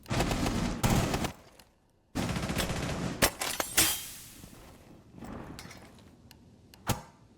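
Rapid bursts of gunfire from Rainbow Six Siege, loud and close, with two dense volleys separated by a brief silence, then a few sharper isolated shots trailing off toward the end.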